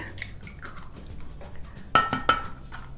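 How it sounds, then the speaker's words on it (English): Two sharp knocks of large eggs cracking against a bowl in a home kitchen, close and clear, the second soon after the first, with quieter kitchen clatter around them. "we are gonna crack these eggs, these large eggs, right into the bowl"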